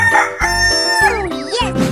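A chicken crows loudly and close, a stretched, wavering call broken into several bursts, mixed with a few short clucks.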